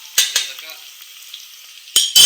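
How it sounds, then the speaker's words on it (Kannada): Onions frying in a pan until brown, with a steady sizzle and a few sharp utensil scrapes and clatters at the start and end, close up and fairly loud, no voices. "ಈರುಳ್ಳಿ ಎಲ್ಲ ಬ್ರೌನ್ ಬರ್ತಾ ಇರಬೇಕು"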